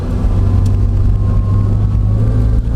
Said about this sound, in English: So it's got a supercharger whine like you hear on Hellcats